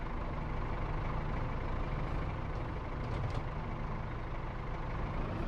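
Tractor engine in Farming Simulator 22 running steadily, a heavy low diesel rumble with a faint hiss on top, continuous and fairly close throughout with no talk.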